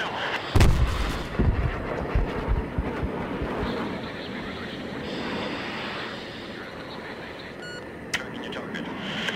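Bombs dropped from an F/A-18F jet in Battlefield 3 burst in a heavy, booming explosion early on, with rumbling debris and a few lighter cracks that trail off into a low, steady background roar.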